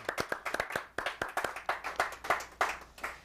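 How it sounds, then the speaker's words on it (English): Audience at a morning show aboard a jazz cruise claps in a lively, uneven patter of distinct sharp hand claps, fairly close, with no voices over it. "Give a round of applause."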